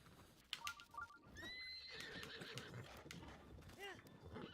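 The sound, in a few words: horse neighing in video game Breath of the Wild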